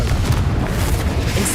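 A Confringo explosive spell going off in Hogwarts Legacy, a short, heavy, booming blast with a deep rumble that fills the whole brief moment.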